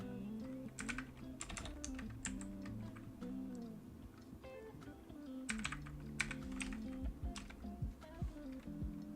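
Fingers typing on a computer keyboard while setting up a Raspberry Pi camera for a robot, quick irregular bursts of clicky keystrokes with short pauses, close but quiet.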